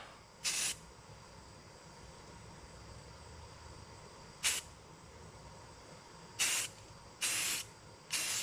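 Rust-Oleum silver spray paint misted onto the rear bumper of a 2000 Lincoln Town Car, with five short hissing bursts spaced irregularly over a quiet background hum, close and fairly loud against the low ambience.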